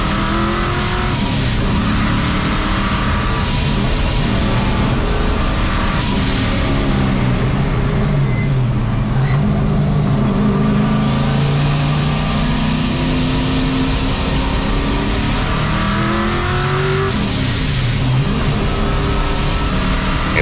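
A turbocharged 1951 Chevy race truck with a solid rear end and spool laps a track, its engine loud and close throughout, revving and falling as it downshifts for slow corners, with wavering pitch through the run.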